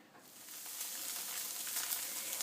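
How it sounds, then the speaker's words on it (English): Atsuage, Japanese fried tofu, sizzles in a pan as it browns, a soft, fairly quiet hiss that swells a little after the first moment and then stays steady. "heat atsuage, or the fried tofu, on both sides for about 3 minutes per side"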